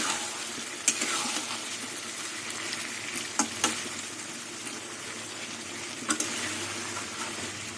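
Soybean and shrimp curry is stir-fried in oil until the oil separates, a steady broad sizzle running throughout with a few sharp spatula scrapes and clinks against the pan.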